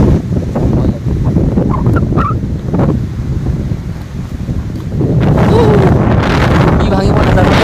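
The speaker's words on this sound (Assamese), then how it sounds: "বতাহ দিলে সঁচাকৈ ভয় লাগে দেই" Strong wind blows hard against the microphone in a rural home setting, rumbling gusts that surge and ease, with louder buffeting toward the end.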